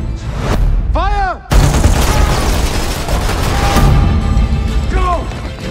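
Gunfire and explosive booms in a Czech war film trailer set in Nazi-era occupation, dense and loud throughout, mixed with music, mechanical clatter and brief shouted voices.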